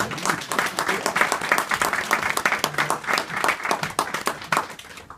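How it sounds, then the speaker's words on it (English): Wedding guests at a ceremony applaud Karen, a dense, lively round of many hands clapping together that fades near the end. "Shall we give Karen a round of applause?"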